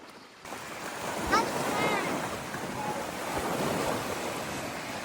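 Strong wind at an ocean shore, roaring steadily with broadband gusts and surf wash, buffeting the microphone throughout after a brief quiet start, with faint voices in the background.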